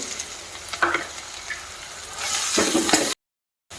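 Ginger, garlic and chili paste dropped into a hot pan, a steady sizzle with stirring scrapes that swells as the paste hits the oil, then cuts to silence briefly.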